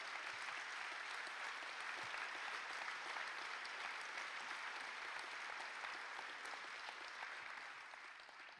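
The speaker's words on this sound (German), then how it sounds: "Beifall" Sustained applause from a crowd at a Party of the European Left new-year event in Berlin, dense, steady clapping filling the hall and tapering off slightly at the end.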